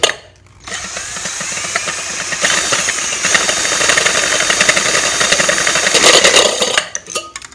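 A spray paint can clamped in a cordless drill whirs and rattles continuously for several seconds as it spins and shakes to mix the paint, loud and close, with no talking.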